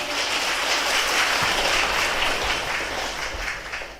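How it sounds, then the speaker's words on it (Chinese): A lecture audience applauds the Buddhist teacher Khenpo Sodargye, a broad wash of clapping that holds steady for several seconds, then thins and tails off toward the end. "让我们再一次用热烈的掌声向索达吉堪布表示感谢"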